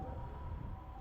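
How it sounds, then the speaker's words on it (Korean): An ambulance siren sounds from behind in Japanese traffic as one steady, sustained wail over road rumble. "앰뷸런스가 뒤에서 소리가 나니까 앞차들이 전부 좌우로 갈라지는 모습을 봤습니다."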